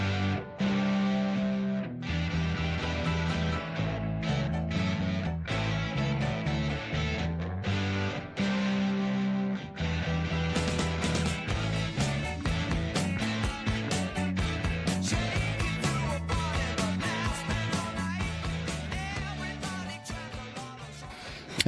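A studio recording of a rock song plays loud and continuous, full-band with heavy low chords, its texture growing denser and brighter with crashing high-end hits about halfway through, and no talking over it.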